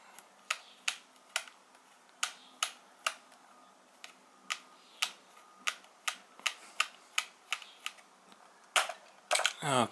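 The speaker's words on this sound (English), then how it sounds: "you're going to want to unscrew this and unscrew that" A lightsaber-shaped screwdriver unscrewing small screws, producing a steady series of sharp, close ticking clicks roughly twice a second, ending in a quicker burst of rattly clicks; no one speaks.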